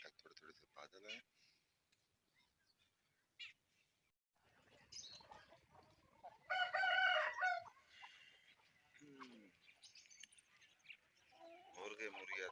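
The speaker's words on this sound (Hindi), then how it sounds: "मुर्गे मुर्गियाँ दाना खा रहे हैं।" Chickens and roosters in a village yard cluck and call intermittently while pecking at grain, with one louder crowing burst in the middle and speech between the calls.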